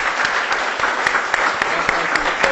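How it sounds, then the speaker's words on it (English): An audience at a policy discussion on U.S. immigration applauds, a steady, moderately loud wash of clapping with a faint regular tapping pulse running through it. "I think a round of applause for everybody."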